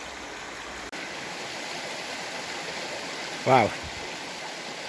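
Water drains out from under rocks along a small river, a steady close rushing trickle that runs throughout, with a brief spoken exclamation near the end.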